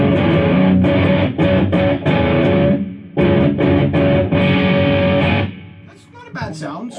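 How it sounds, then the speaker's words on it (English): A Gibson SG in open G tuning, set to about a quarter distortion with compression on, plays loud, gritty strummed chords in bursts separated by short gaps, then lets the last chord ring and fade. "Let's take it down to about a quarter distortion with the compression still on."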